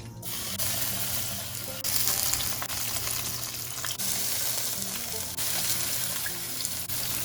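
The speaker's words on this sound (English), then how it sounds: "I will directly fry them with olive oil. In a pan over medium heat, adding olive oil." Pompano fish pieces fry in olive oil in a pan over medium heat, giving a loud, dense, continuous sizzle that hisses steadily throughout with no talking.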